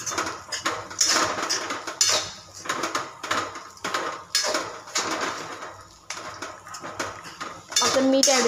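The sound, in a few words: stirring poha in a pan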